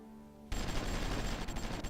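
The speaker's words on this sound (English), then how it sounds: "we do have some artillery around here that should start firing soon enough" Artillery fires in the strategy video game Supreme Ruler Ultimate: after half a second of quiet hum, a dense, sustained barrage of booming, crackling shots starts abruptly and keeps rumbling.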